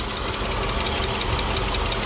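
A cold BMW E60 engine with new lifters idles with a steady, rapid metallic ticking over a constant mechanical hum, close and continuous with no talk.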